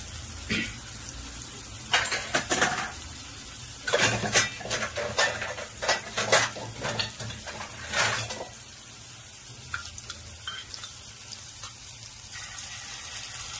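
Chillies are tipped into a pan of browning onion for a chicken momo filling, bringing a run of sharp metal scrapes and clatters over a steady low sizzle, then the sizzle settles and continues more quietly.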